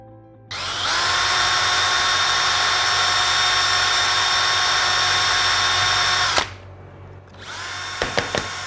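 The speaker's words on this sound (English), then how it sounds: "now we can take this apart and then drill the holes separately." A loud drill spins up and runs steadily into Supawood board for about six seconds, cuts off, then starts again with a few sharp knocks at the end.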